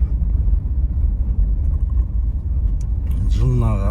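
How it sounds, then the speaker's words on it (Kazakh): A Toyota 4Runner SUV engine runs with a low, steady rumble close by on an off-road outing in Mangystau's countryside, and a voice rises over it at the end. "Toyota 4Runner деген машина бұл."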